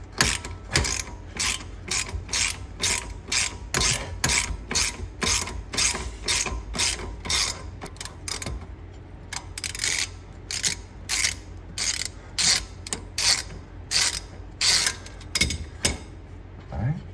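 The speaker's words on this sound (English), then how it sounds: "Maybe we could just use this little torque wrench." A small ratcheting torque wrench on a suspension bolt, used while replacing the trailing arms on a Grand Marquis, clicks in rapid, steady bursts of ratchet strokes with short pauses between them. The clicks are close and loud throughout.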